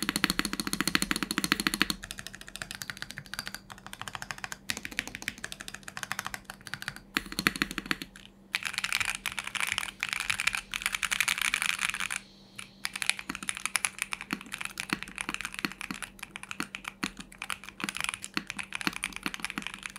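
Continuous typing on a Neo70 custom mechanical keyboard fitted with PE foam, a dense, close stream of clacky keystrokes with occasional brief pauses and no talking.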